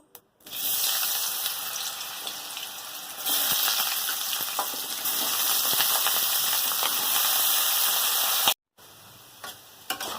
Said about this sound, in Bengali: তেল গরম হয়ে গেছে, আলু দিয়ে দেবো